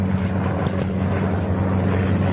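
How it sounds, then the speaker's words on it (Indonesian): American military helicopter flying overhead during an air-raid scene, a steady low rotor and engine drone holding continuously and fairly loud throughout, with no talk. "Helikopter Amerika."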